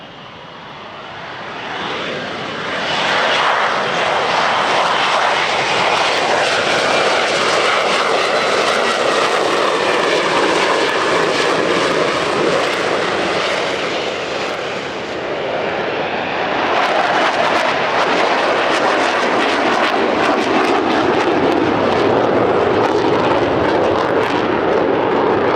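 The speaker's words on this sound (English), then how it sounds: "Lightnings now peel away. One of them is an F-35B" Italian Air Force F-35 Lightning jets, including an F-35B, peel away at an airshow with a loud sustained jet roar that swells, dips briefly, then rises again for over twenty seconds.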